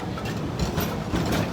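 The largest narrow gauge Shay steam locomotive ever built, moving slowly on a Yosemite railroad, a low rumbling chug with clanking mechanical rhythm, close and continuous.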